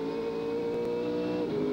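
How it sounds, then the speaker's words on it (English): A V8 Supercar engine drones steadily and strongly during race-morning warmup at Bathurst's Mount Panorama, a loud sustained note with a slight pitch shift near the end and no speech over it. "And the car sounds beautiful, it sounds strong, performing faultlessly throughout the week"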